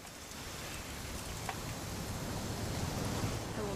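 A continuous hiss of rain falls in the PS5 video game What Remains of Edith Finch, a gentle, even downpour heard alone with no voices.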